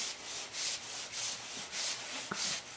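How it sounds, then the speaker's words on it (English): A hand rubs talcum powder around the inside of a BMW F650 motorcycle tire, making a close, rhythmic series of dry scuffing strokes about twice a second, with a brief knock near the end. "So what I do is put some on the inside, kind of rub it around with my hand."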